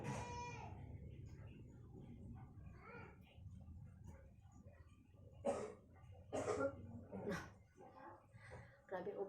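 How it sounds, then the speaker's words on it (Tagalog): Several people cough repeatedly in a home, with bursts of harsh coughing and throat clearing near and loud, mixed with talking voices. "Hindi mawala-wala yung ubo namin dito."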